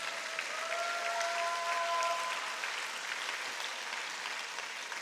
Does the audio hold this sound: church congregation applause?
yes